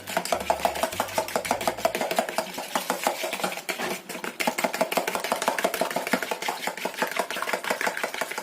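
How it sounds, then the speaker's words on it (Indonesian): A utensil scrapes and clatters rhythmically against a pan in quick, steady strokes, close up, with a low background rumble. "Kita aduk sampai tercampur rata."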